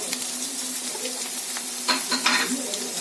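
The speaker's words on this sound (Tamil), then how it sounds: "இது எல்லாத்தையும் நல்லா அந்த ஆயிலே அப்படியே ஃப்ரை பண்ணுங்க" Carrot, beans, capsicum and cabbage sizzle and crackle as they are stirred in hot oil for chicken fried rice, a close, continuous frying hiss with a few brighter scraping bursts near the end.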